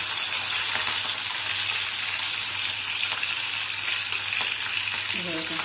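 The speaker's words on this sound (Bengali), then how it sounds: "ক্যাপসিকামগুলোকে ফ্রাই করব" Capsicum frying with cumin seeds in a pan gives a loud, steady, close sizzle, with a little stirring and a faint voice near the end.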